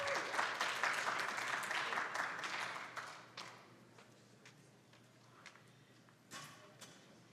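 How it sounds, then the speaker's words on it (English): A conference audience at a brownfields development session claps: loud, dense applause for about three seconds, then it thins to scattered, fading claps. "Please give her a round of applause."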